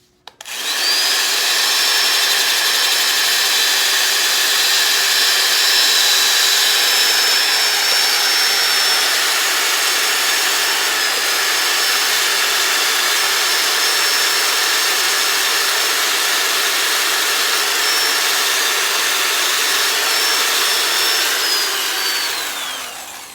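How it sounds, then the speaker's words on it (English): A power drill cleaning cast iron whirs continuously at high speed for over twenty seconds, loud and close, with a steady whine throughout. "And just take your drill"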